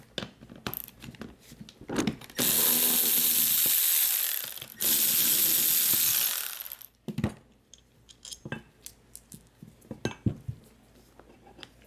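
A loaded rear brake caliper is worked off its bracket on a Hyundai Santa Fe, with metallic clicks and clanks around two long, loud buzzing bursts of a power tool.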